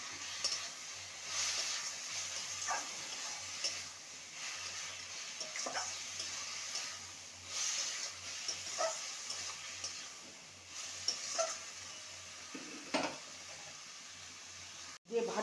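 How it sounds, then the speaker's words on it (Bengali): Greens being stirred with sugar in a pan for a Bengali amaranth-leaf chorchori, a steady close scraping and soft sizzle running throughout with occasional sharper knocks of the spoon against the pan. "চিনি দিয়ে ভালো করে নেড়ে নেব।"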